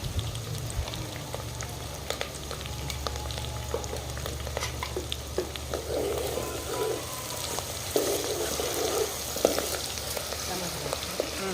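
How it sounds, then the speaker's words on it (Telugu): Green chilies and ginger-garlic paste frying in a pan, a steady crackling sizzle with occasional scraping stirs and spatters, close and fairly loud throughout. "పచ్చిమిరపకాయలు, అల్లం వెల్లుల్లి పేస్ట్ కూడా ఇప్పుడు వేస్తే వేగిద్దిగా"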